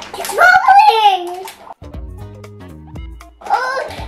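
A Magic Mixies toy cauldron bubbles its potion with a short, burbling electronic gurgle, set between stretches of someone talking close by.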